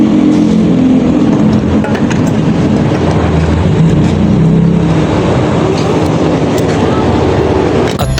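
A motorcycle engine running on a road in the rainy season, a loud, constant drone with heavy wind and road rumble filling the whole stretch, with no clear breaks.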